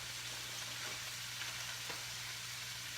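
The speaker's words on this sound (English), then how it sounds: "I'm just gonna add the broccoli to the skillet as well." Frozen chopped broccoli goes into a skillet of tofu stir fry, giving a steady, close sizzle of frying with no voices present.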